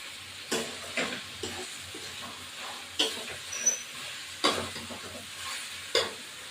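Goat meat stirred into a pan with potatoes and green chilies sizzles steadily at low level, broken by repeated scraping strokes of the spoon roughly every second, no talking.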